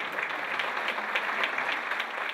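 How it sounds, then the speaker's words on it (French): An audience claps as musicians step onto a concert stage. The steady, dense applause continues without a break, and a few faint voices can be heard within the crowd. "Lorsque les musiciens montent sur scène, ils sont accueillis par une pluie d'applaudissements"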